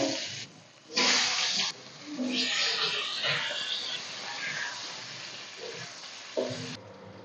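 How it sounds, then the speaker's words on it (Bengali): Potatoes frying lightly in hot oil give a steady sizzle with bursts of louder crackling at the start and near the end, close and fairly soft, with a voice speaking faintly under it. "এই তেলের মধ্যে আমি আলুগুলো ভেজে নেব হালকা করে"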